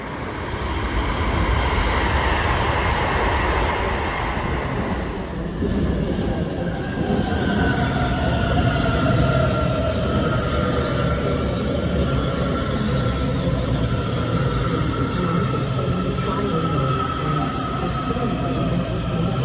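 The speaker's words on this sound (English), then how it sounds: "So that is a Silver Line train to Ashburn leaving Cheverly Station" DC Metro Silver Line train to Ashburn pulling out of Cheverly Station, a loud, steady rumble of wheels on rail with rising tonal whine and squeal as it accelerates away, continuous over the whole stretch.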